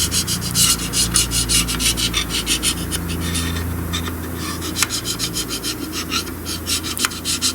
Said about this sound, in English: I've just been scraping the head gasket surface with this carbide scraper.